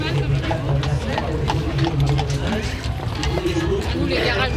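Hooves of a lively 19-year-old horse clip-clop at a steady pace over a noisy outdoor background, with people chattering and a crowd murmuring throughout.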